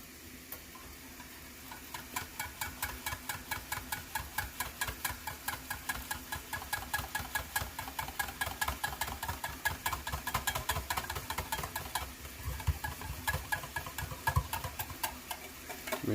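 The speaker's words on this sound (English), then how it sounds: "I'm going to continue to whisk and add butter, thicken everything up more." A whisk beats butter into hollandaise sauce in rapid, even rhythmic clicks against the bowl, close and steady for about sixteen seconds without talk.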